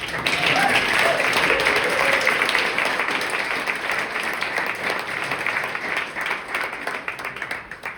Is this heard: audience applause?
yes